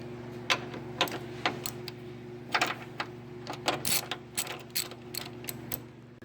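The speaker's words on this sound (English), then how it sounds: "I got all 4 bolts out" Ratchet clicking while bolts are removed on a Chevy Equinox near the hidden battery, quick repeated bursts of rhythmic pawl clicks over a steady low hum, close and moderately quiet.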